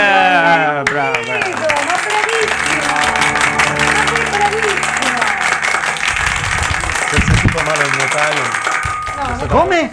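A studio audience applauds on a live Italian Sunday variety show, steady clapping running under loud music, singing and a presenter's talk for the whole stretch.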